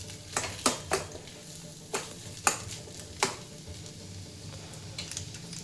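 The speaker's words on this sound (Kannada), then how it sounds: "ಸ್ವಲ್ಪ ಆಲೂಗಡ್ಡೆನೂ ಖಾರದ ಜೊತೆ ಮಿಕ್ಸ್ ಮಾಡ್ಕೊಳ್ಳಿ." Potatoes stirred with chili in a pan for homemade vada pav, a spoon scraping and clinking against the metal in several sharp, irregular knocks over a soft background sizzle, close and fairly quiet.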